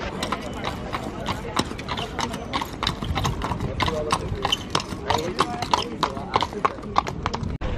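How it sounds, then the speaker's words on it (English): Police horses' hooves clip-clopping on a street at a Christmas market in Oslo, a close, brisk run of sharp irregular clacks throughout, with voices murmuring underneath. "Oh no, there's police on horses."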